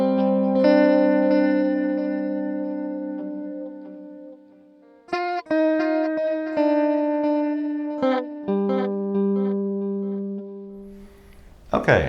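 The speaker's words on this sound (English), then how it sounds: "I'm going to add a guitar using a special effects layer which is called MOD." Guitar played through the MOD effects layer on a Zynthian DIY Raspberry Pi Linux synthesizer, sustained effected notes and chords with distortion and chorus, several changes of phrase, loud and clear with no talk.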